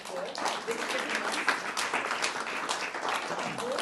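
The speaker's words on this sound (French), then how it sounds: "Je vous propose d'applaudir notre créateur" Applause from an audience at a Quimper town event, honouring a creator, steady and fairly close, with a speaking voice running over the clapping throughout.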